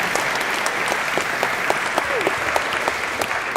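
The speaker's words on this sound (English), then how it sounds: "Let's give them a huge round of applause." An audience at the Venture Day 2023 startup event applauds the judges, sustained clapping from a sizeable crowd, loud and steady, with a brief voice or whoop faintly showing through.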